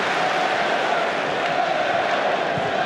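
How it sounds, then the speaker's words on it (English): A football crowd roars at an Arsenal v Tottenham Hotspur match, a steady, dense wash of distant voices and cheering holding at an even level throughout, with no single shout rising above it. "Crowd enjoying this."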